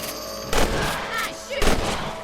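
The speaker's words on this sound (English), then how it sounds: "Get your rifle out. It's about time these little things met their maker." Rifle shots ring out in the Western video game Red Dead Redemption during a rabbit hunt, two sharp loud cracks about a second apart over faint background game ambience.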